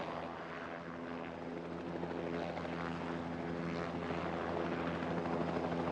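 A multi-role naval and tactical transport medium helicopter in flight, its rotor and engine making a steady, faint, continuous drone that holds evenly throughout with no voices.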